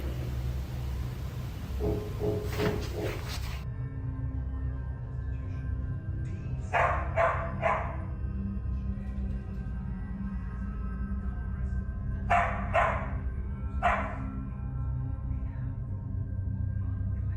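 Dogs bark indoors in a few short clusters of two or three barks each, muffled and somewhat distant against a steady background hum, with no talking.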